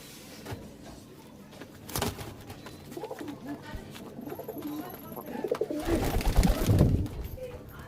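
Pigeons in a loft coo intermittently while being let go, with a burst of flapping wings and handling noise near the end, close and moderately loud.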